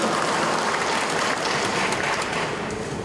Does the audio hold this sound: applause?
yes